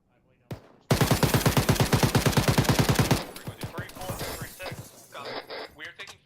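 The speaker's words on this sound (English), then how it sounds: "We are taking fire from the top of a building that we cannot enter." Rapid, loud automatic gunfire from a military video game tears through as a sustained burst of closely spaced shots, then breaks into scattered, fading shots with echoing reports.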